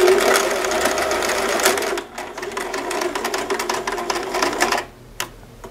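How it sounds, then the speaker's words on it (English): Sewing machine backstitching a seam on a fabric penguin plush, a loud close rapid needle rattle in steady runs broken by brief pauses and a short stop near the end. "at each end of the line, I'm going to backstitch, which will help the seam hold together"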